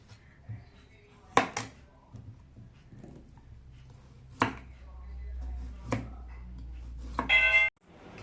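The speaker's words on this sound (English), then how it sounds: "I have to also chop it round and round" A kitchen knife chops zucchini into rounds on a cutting board, a few sharp, well-spaced thuds close by, with a voice speaking faintly between cuts.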